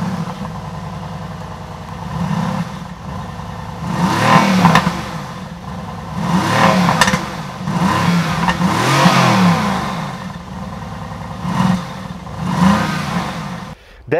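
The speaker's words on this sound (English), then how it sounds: "start the engine, then you have the secondary audio or the exhaust system" A 2018 Mercedes-AMG GT C Roadster engine and exhaust give a series of loud, close throttle blips, roughly six sharp revving bursts that each swell and drop back to a rumbling idle.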